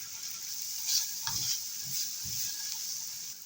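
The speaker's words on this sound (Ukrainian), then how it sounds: "Ковбаска підсмажилась і додаємо моркву" Carrot and smoked sausage frying together in a pan hiss steadily, while a spoon knocks and scrapes a few times as the mixture is stirred.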